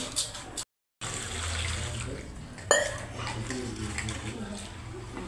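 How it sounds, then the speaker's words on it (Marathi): Rice being rinsed in water drawn into a pot during home dinner cooking, a steady close watery swish and trickle through the clip, broken by a short silent gap near the start and a brief clatter midway. "तांदूळ धुवून घेते."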